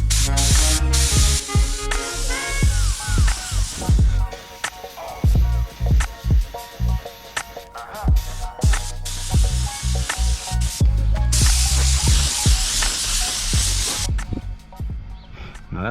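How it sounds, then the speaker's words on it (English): Bursts of steady spray hiss from a spray gun applying tinted black clear coat over chrome, starting and stopping several times, close and loud, with clicking and handling noises between passes. "always use that practice of using a spray panel to test what you're tinting"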